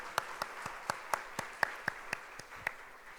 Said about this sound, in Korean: 우리 감사의 영광의 박수 올려드리겠습니다.